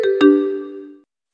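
Short electronic telephone ring tone: two quick bright chimes followed by a ringing tail that fades out within about a second, clear and close.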